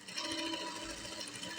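Sewing machine running a lock stitch in a tailoring exercise, a fast continuous mechanical whir with rapid even ticking, close and fairly quiet, no voices.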